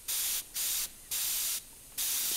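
An airbrush sprays automotive paint in four close, loud hissing bursts, each under a second long, separated by short silent pauses.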